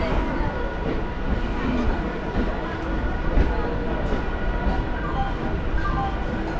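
Bardhaman local train pulling out of Naihati station, a continuous close rumble of the moving carriages with a steady broadband roar and faint rattles.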